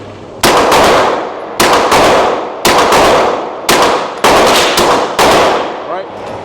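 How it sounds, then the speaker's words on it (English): Five loud, evenly spaced pistol shots through a CGS MOD9SK suppressor firing supersonic rounds at a shooting range, each a sharp crack with a ringing decay, roughly one per second. "Let's hit these first 5 rounds with the supers."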